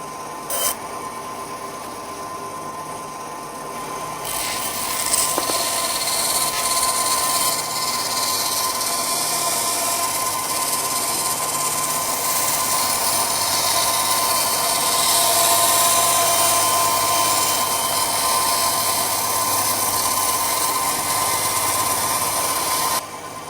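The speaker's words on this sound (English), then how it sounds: "I'm going to cut out 12 ribs at a time. And I'm going to use my trusty old bandsaw." A bandsaw cuts through a stack of twelve model airplane wing ribs, a loud, steady high whine with grinding hiss that swells after a few seconds and holds for about twenty seconds, with no talking.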